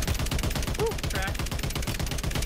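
Rapid, loud automatic gunfire from Call of Duty Warzone hammers on without pause in a steady rhythm, with a brief voice under the shots.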